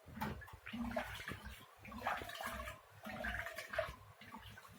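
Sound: washing rice and lentils in water

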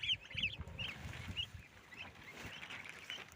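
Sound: turkey poults and goslings

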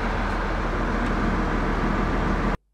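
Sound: heavy road traffic

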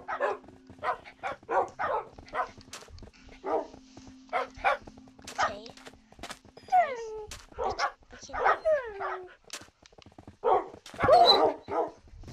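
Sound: dogs barking in the video game Minecraft

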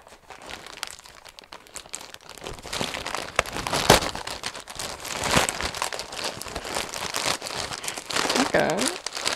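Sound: snipping open a wrapped present package

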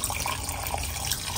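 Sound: water spraying onto toilet paper to break it down

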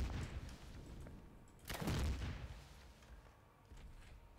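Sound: explosion in Resident Evil video game

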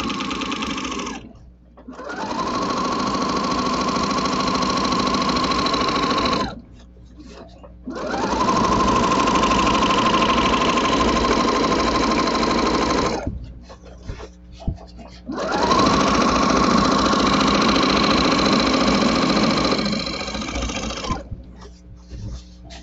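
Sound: sewing machine quilting a baby quilt

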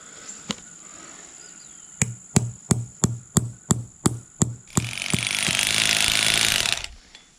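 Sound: electric hammer driving a rod into the ground

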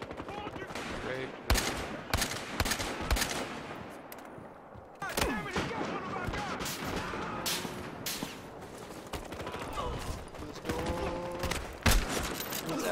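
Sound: sniper rifle gunfire in video game Battlefield Hardline

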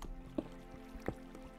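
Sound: water dripping in Minecraft video game

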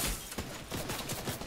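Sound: gunshots from an enemy in a video game

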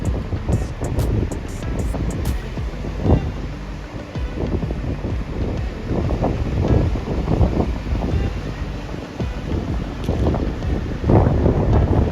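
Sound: strong wind at the coast, Anglesey

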